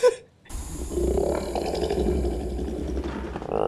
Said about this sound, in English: It does sound like he's flushing the toilet.